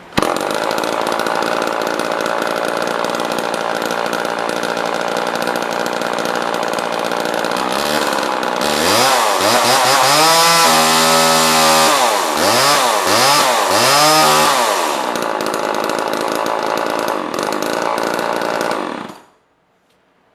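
An old pre-1990 chainsaw runs loudly and steadily close by, its engine revving up and down repeatedly in the middle before settling back into a constant drone and cutting off at the end.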